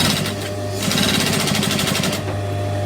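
A sewing machine stitches through thick, bulky fabric with a loud, close, rapid mechanical chatter. The stitching runs as a steady burst over a low motor hum and then stops.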